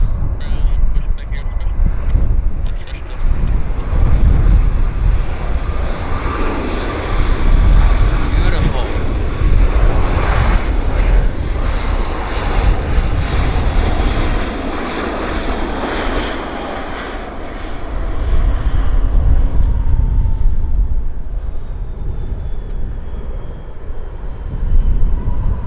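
A jet airliner touches down at Vancouver Airport with a loud, sustained engine roar and rumbling runway noise that swells and eases across the whole stretch, heard from fairly close.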